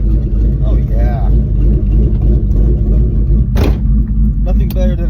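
Cammed 2001 Ford Mustang GT V8 idling with a loud, lopey low rumble and a short rev, steady and close, while people talk over it.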